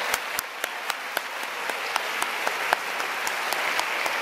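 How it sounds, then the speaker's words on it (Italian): Steady applause from an audience at a civic meeting in Gemona, Italy, with dense clapping filling the room at an even level and no speech over it. "facciamo un applauso a questi comitati"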